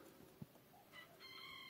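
Chickens in a small wooden coop about 10 by 5 feet, a brief faint cluck followed by soft, sustained clucking and crowing-like calls, quiet and distant against low background noise.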